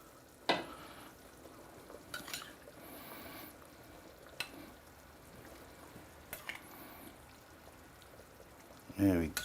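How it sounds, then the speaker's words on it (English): Lamb pieces tipped into a pan of curry sauce with yogurt marinade, giving scattered soft stirring and sizzling bursts, a few sharper scrapes and clunks, over low steady background noise. "That's our lamb that I'm adding."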